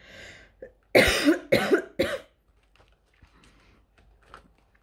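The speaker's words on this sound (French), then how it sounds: "c'est hyper désagréable d'entendre quelqu'un tousser" Three sharp, close coughs come in quick succession, followed by quiet rustling and a few faint clicks.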